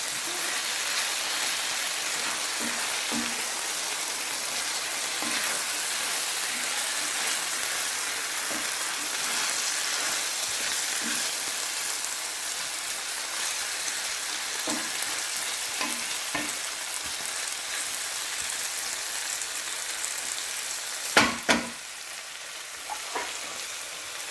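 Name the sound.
green lentils cooking and popping in a pot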